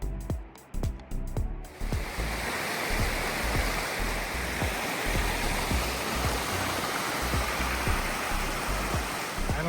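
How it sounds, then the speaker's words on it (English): Waterfall at Whitney Portal near the start of the Mount Whitney trail, a steady loud rush of falling water filling the scene, with a few brief knocks and bumps in the first two seconds before the continuous roar settles. "This is another view of that waterfall"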